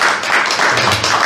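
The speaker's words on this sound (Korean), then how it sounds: "박수 한번 또 부탁드립니다." An audience at a vocal concert applauds with dense, steady clapping that fills the short moment, close and fairly loud with no voices.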